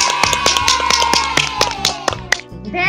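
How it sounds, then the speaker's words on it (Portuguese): A small group claps in quick uneven rhythm, sharp hand claps continuing for several seconds up close, with a few louder slaps near the end as the applause tapers off. "Palmas, gente! Palmas."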